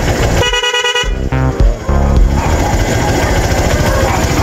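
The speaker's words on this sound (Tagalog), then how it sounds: "Try natin ang tunog ng busina." A tricycle's loud buzzy horn blares in short repeated bursts up close, followed by an idling engine rattle.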